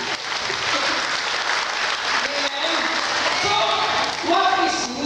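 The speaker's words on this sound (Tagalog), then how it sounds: "Ala tayo sa palakpak." A church congregation at a Wednesday group gathering in Hong Kong claps steadily for several seconds, a dense sustained applause with a few voices mixed in.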